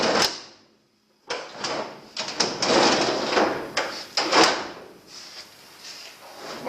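Renault Estafette sliding door rolling on its refitted rail with dry, ungreased rollers, a close series of rattling clunks and scraping knocks over several seconds after a brief pause.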